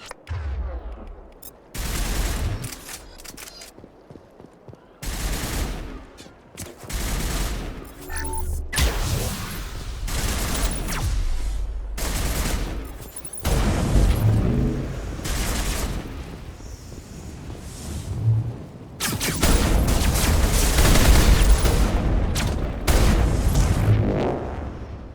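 Geth turrets and squad weapons fire in the Mass Effect game on Virmire, with repeated bursts of loud gunfire and booming impacts in irregular volleys, separated by short lulls, over about twenty-five seconds.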